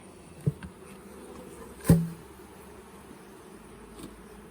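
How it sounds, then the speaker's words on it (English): Honeybees in a weak hive with few bees give off a faint low buzz, interrupted by a couple of soft knocks from handling the hive. "See, there's just not many bees in here."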